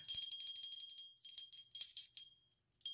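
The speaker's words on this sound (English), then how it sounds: "This is a bell." A small bell rings in quick repeated strikes, a rapid ringing run followed by a few separate louder rings, then one last ring after a short pause, bright and close with no voices.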